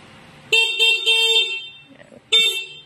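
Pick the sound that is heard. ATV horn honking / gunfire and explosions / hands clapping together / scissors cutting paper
ATV horn honking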